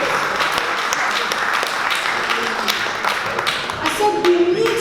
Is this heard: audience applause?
yes